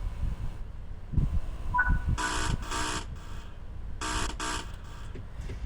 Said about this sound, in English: they implemented a guard buzzer feature